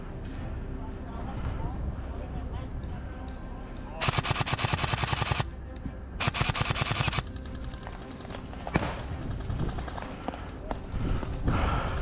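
Airsoft guns firing during an outdoor skirmish, two long rapid-fire bursts of sharp mechanical clatter up close, then scattered single shots and more bursts, with voices talking throughout.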